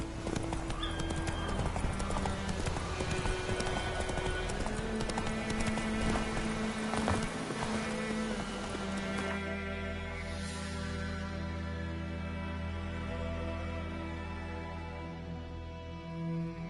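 Horse hooves gallop in The Witcher video game on PS5, a fast, steady clip-clop mixed with game music that softens and thins toward the end.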